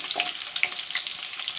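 Chopped onions frying in hot mustard oil for a palak curry, giving a bright, continuous crackling sizzle with small popping bursts, close and steady for a brief moment, with no talking.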